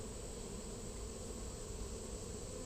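Honeybees in an open hive keep up a steady, dense buzzing drone throughout, moderately loud and close, with no talk over it.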